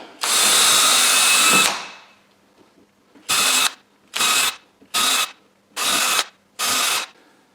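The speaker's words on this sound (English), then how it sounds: "now that I have my holes drilled on one end of my sides" Power drill boring holes through the wooden sides of a stand, one long close whine followed by five short evenly spaced bursts with quiet gaps between them.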